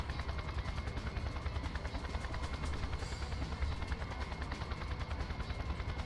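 Helicopter rotor noise in the Just Cause video game, a dense continuous whir mixed with rapid gunfire-like bursts, loud and steady throughout with no talking.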